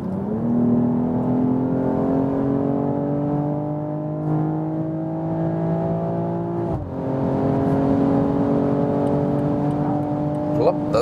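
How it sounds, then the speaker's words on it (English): A 2022 BMW M440i Gran Coupé pulls hard from 100 to 200 km/h, its engine note rising steadily through the gears with one quick shift break midway, loud and continuous over road and wind roar. "That is 100 to 200 kilometers an hour acceleration, so 60 miles to 125 miles acceleration"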